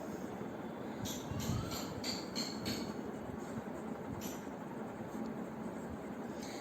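Pen scratching on paper while handwriting chemistry study notes on redox reactions, with faint, irregular strokes coming in short bursts over a steady low background rumble.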